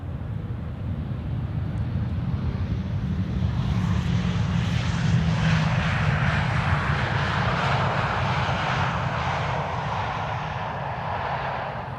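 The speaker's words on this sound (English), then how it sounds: "KLM flight 1030 arriving from Chester." A KLM airliner arrives at Amsterdam Schiphol, a broad, steady engine rumble that swells and then holds. It sounds moderately close, with light wind noise and no talking.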